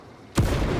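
A crack grenade detonates in Space Marine 2, a video game: after a short quiet lead-in, one loud, sharp boom hits and leaves a dense rumbling tail.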